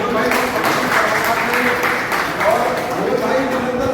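Audience applause at a cultural stage event, a burst of clapping mixed with speech from the host, moderately loud and fading.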